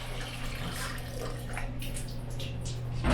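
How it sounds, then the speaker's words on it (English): Water poured off rinsed white jasmine rice in a kitchen, a steady close splashing pour running for about three seconds, alone with no talk. "And pour it off again, making sure not to let any of the rice out."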